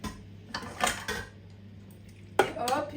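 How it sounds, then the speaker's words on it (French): Cake batter transferred from one bowl into a second bowl, heard as a few scraping and clinking knocks of utensil against bowl with soft sloppy pouring, close and fairly faint, no talk. "je transvase le tout dans le deuxième bol"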